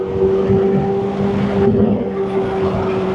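A Hummer EV sits under a loud, steady engine-like drone with a brief swelling surge midway. Distinct exhaust pops are not clearly separated from the continuous roar.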